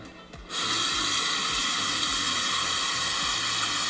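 A bathroom sink tap opens suddenly and runs in a steady, loud hissing stream for a few seconds, close by, with low faint knocks underneath.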